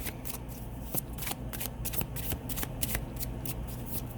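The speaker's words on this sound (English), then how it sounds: "I'll pull one more card for you guys, Capricorn." Tarot cards being shuffled by hand, a quiet, close riffling with repeated crisp snaps at an irregular rhythm, steady throughout with no voice over it.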